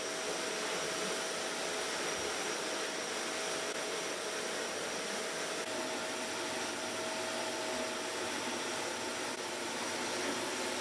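A vacuum cleaner pulls dust off outdated furniture being prepared for a makeover, its steady broadband roar running loud and unbroken throughout, with no voices over it.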